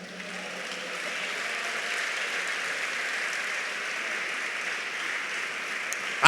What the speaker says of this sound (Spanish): Un aplauso para Él, hermano.